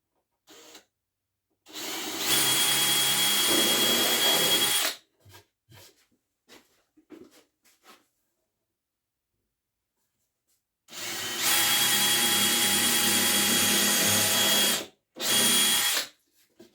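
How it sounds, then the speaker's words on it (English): A power drill drives screws into wood, whirring in two long bursts, each lasting a few seconds, with short trigger blips and quiet pauses between, close and loud. "Let's use the drill instead of the"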